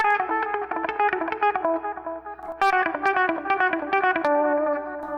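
A distorted electric guitar plays a fast, repeating solo phrase of picked notes, loud and up close, with no talking.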